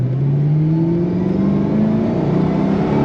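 A 2005 Ford GT supercar accelerating on throttle in gear, its engine a steady loud drone rising in pitch over the whole stretch, heard from close by with no talk.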